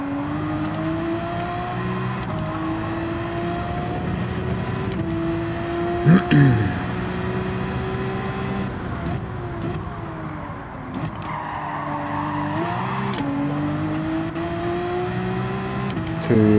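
Porsche race car in Gran Turismo 7 revs loud and steady through gear shifts, with a brief tire squeal near the middle and someone talking over the engine throughout.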